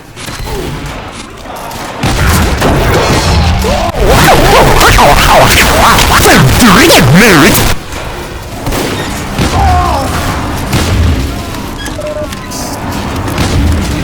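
Continuous loud booming explosions and blasts from Loose Cannon cannon jumping in Team Fortress 2, layered with whooshing effects and a sweeping tone, dense and relentless throughout.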